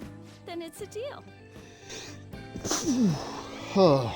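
A sneeze in the Persona 5 Royal video game, a short burst near the end that follows a line of game dialogue and background music.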